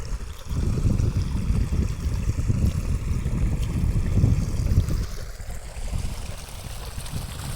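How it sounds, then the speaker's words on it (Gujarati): Loud, steady rushing of strongly flowing water on a farm, a continuous roar that eases slightly near the end. "પાણી ભાઈ જોરદાર આવે જો અત્યારે"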